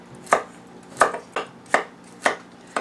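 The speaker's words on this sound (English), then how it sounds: "I kind of cut on a little bit of an angle" Escarole greens being cut with a knife on a board for a cannellini bean dish, six evenly spaced sharp chops close up, with quiet pauses between strokes.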